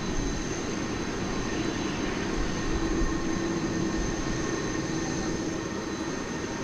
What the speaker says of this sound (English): It's going to Madrid. Flight 364, Airbus A330, 300.